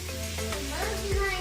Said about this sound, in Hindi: 2 बड़ी साइज़ की कटी हुई प्याज इसमें शामिल करेंगे